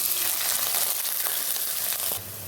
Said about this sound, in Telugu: ఇదిగండి ఉల్లిపాయలు వేగేవి